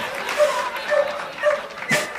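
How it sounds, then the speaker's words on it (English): A dog gives four short, bright, happy-sounding barks at an even pace, moderately close, with faint room murmur between them. "Sounds like happy barking."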